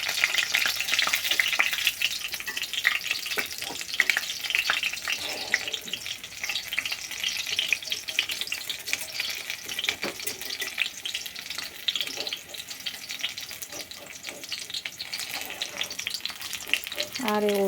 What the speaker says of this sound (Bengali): তো চলো বড়াগুলো ভেজে নিই